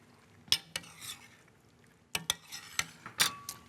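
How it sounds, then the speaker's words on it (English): A spoon stirs lardons into a beef and veal stew in a metal pot, giving sharp scattered clinks and scrapes with soft wet stirring between them, close and fairly quiet. "stir in the lardon."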